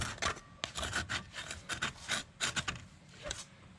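Metal file rasping against a rear brake part on a 1999 Dodge Caravan during rear wheel bearing work, a close run of uneven scraping strokes with no talk.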